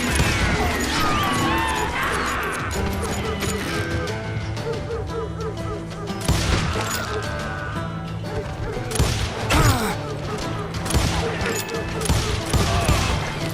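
Gunfire in the Wild West game Call of Juarez: Gunslinger, a dense, continuous firefight of overlapping shots and crashes with music, while voices shout over the action.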